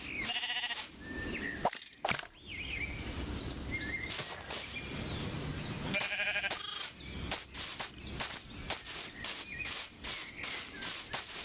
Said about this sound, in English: this sheep right here is so hungry and is eating so much grass